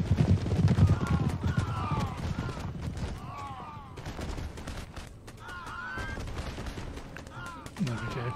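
Musket volleys in Empire: Total War crackle as dense ragged gunfire over a rumbling battlefield din, with whistling flourishes and distant hoof-like clatter, continuous and mid-distance.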